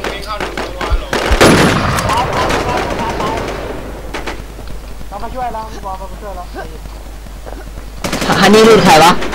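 Rapid bursts of automatic gunfire from the online survival shooter Infestation crackle loudly at the start and again near the end. Voices talk over the shooting.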